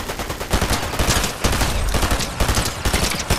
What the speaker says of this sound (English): I'm shooting at the actual Poseidon